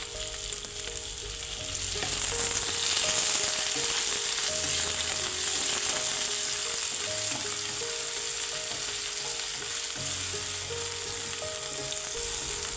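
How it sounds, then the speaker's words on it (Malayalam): Slit green chillies sautéing in hot oil for a Kerala-style fish curry, a bright continuous sizzle that swells after a couple of seconds, with faint stirring and a steady hum behind it. "നടുവേ കീറി വെച്ചിരിക്കുന്ന പച്ചമുളക് ചേർത്തിട്ട് ഒന്നുകൂടി വഴറ്റുക"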